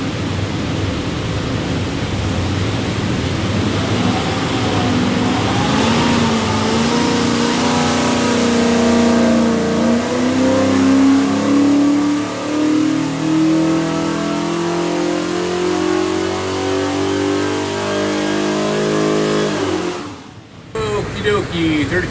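A 383 cubic inch small block Chevrolet with a custom ground hydraulic roller cam revs hard on a dyno, a loud sustained engine roar climbing steadily in pitch for about twenty seconds before cutting off abruptly.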